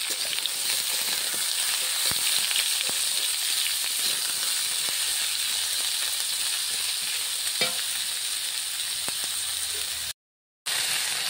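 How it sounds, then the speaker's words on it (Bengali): Potatoes and onions fry in a pan for a Bengali-style mocha dalna, giving a steady close sizzle with occasional scraping stir clicks and no talk. "দেখো এগুলো ভালো করে ভাজা হচ্ছে।"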